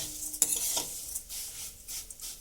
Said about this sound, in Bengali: তো দেখুন, আমি এটাকে একভাবে নাড়াচাড়া করছি।